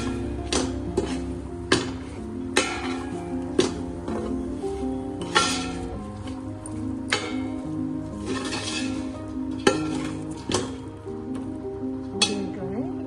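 A spoon stirs egg biryani with mint leaves in a pot, making irregular metallic clinks against the rim with soft, wet squishing in between, close up and moderately loud.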